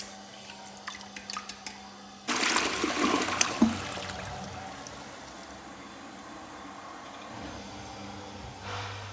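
Water gushes into a toilet bowl being rinsed clean, a sudden loud rush that starts after a few faint clicks and settles into a softer trickle and gurgle, ending with a faint clatter.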